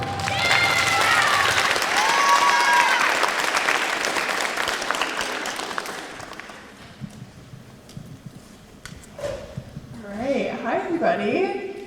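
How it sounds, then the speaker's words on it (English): School audience at Ben Reifel greets guest Bergen Reilly with loud, dense applause for about six seconds, which then fades as a voice begins speaking. "So take a round of applause, Bergen Reilly."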